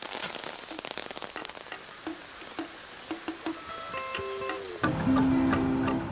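Steady rain patters on surfaces during a stop on a garden journey through South America, with scattered sharp drips over a soft hiss, growing denser and louder toward the end.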